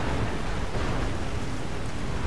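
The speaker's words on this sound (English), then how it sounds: "I'm being rained upon." Steady, dense rain pours down continuously in a Skyrim game world, a loud broadband hiss with no talk over it.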